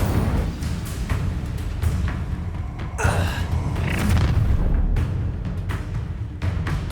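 Incendio fire spell cast during combat in Hogwarts Legacy, a loud whooshing burst of flame around the middle, set within continuous dense battle noise and rumbling effects.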